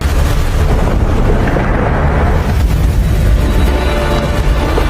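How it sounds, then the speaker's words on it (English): Missile strike explosion destroying a military base in a war film, heard as a loud, sustained roaring rumble that fills the whole stretch without letting up. "Just as a missile strike is about to destroy the base"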